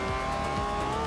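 Forza Horizon 2 car under acceleration, a brief steady engine tone with a hint of tire noise, loud and close, no talking.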